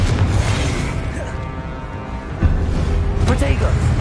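The Confringo explosive spell in Hogwarts Legacy on PS5 lands as a booming blast with a sharp burst partway through, over a dense, loud rumble of game effects and music.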